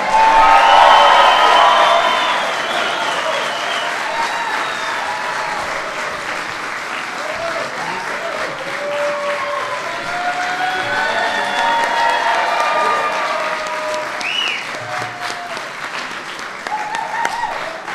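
A large crowd at a White House St. Patrick's Day reception cheers and applauds steadily, with whoops rising over sustained loud clapping that swells at the start and continues throughout.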